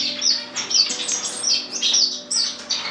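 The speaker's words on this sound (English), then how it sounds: "very hard to film Cuban finches." Cuban finches in an indoor bird room give rapid, high, repeated chirps and short tweets, close and fairly loud over a faint background hum.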